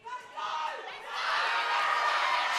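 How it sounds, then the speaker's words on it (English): A crowd at a women's equipped powerlifting nationals cheers and shouts encouragement during a deadlift attempt, swelling from scattered yells into a loud, sustained roar with whoops. "The crowd's behind her here"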